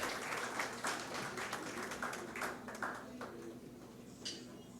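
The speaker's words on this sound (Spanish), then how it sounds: "Un otro fuerte aplauso para Freddy Montoya y su grupo de baile y el tamborero Edgar Ojeda." Scattered, fairly faint hand clapping from an audience greeting a dance group and drummer, individual claps distinct and tapering off over about five seconds.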